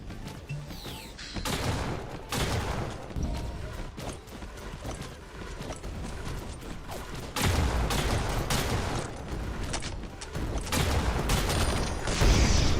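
Missile barrage in the roguelike battle royale game Skillshot City, dense bursts of explosive firing and crashes rolling on continuously at close range, with no talk over it.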